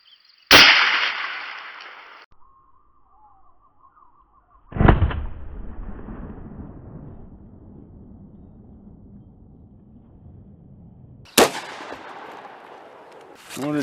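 Gunshots fire through a muzzle compensator into cardboard outdoors, a sharp loud crack, then a heavier blast with a rumbling echoing tail, and another crack near the end, with quiet gaps between.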